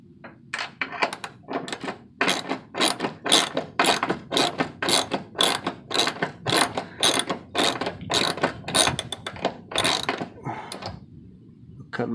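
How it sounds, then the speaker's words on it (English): A 17 mm hand ratchet turns a nut on an open trailer's equipment rack, giving a steady series of close, crisp clicking pulls, about twenty rhythmic ratcheting strokes heard on their own. "Use a 17 millimeter hand ratchet right here. It'll fit on this nut right here."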